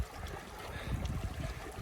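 Water flows and trickles through a mountain channel linking two lakes in the high Sierra, a soft, steady gurgle heard at low level with some louder swells toward the middle.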